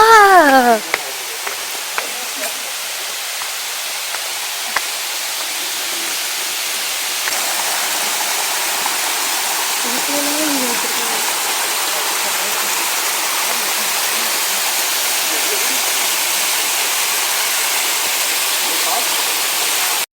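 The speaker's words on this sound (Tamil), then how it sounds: "ஃபால்ஸ் சவுண்ட் கேட்குது பாருங்க." Waterfall on a misty mountain trek to Dolphin Nose Point at 6,600 ft, running low in the dry season, heard as a steady broadband rush of falling water throughout, with a brief voice at the start.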